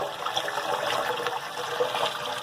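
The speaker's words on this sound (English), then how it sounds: "So this is all flowing in nicely." Water pours steadily into an aquarium as it fills, a continuous close rushing and trickling with no voices over it.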